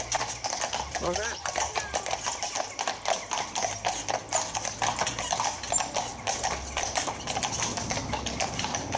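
Steady rhythmic clip-clop of horse hooves continues throughout at a brisk pace, with people talking over it.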